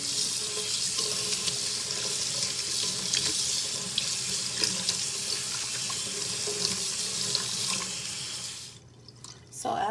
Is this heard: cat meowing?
no